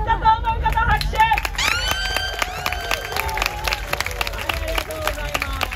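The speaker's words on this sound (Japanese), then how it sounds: "まずはこちらの中さんチームが良かったと思う方、拍手" Crowd at a beach breaking battle on Keya beach clapping and cheering to vote for a breakdance team, with lively whoops and scattered claps over a booming music bed and babble from the crowd.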